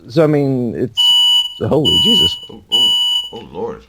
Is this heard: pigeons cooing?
no